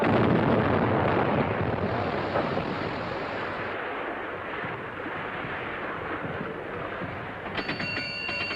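Sustained heavy rumbling roar of cannon fire from a 1937 film sea battle with a submarine, broadband and booming throughout, with a brighter metallic crackle near the end.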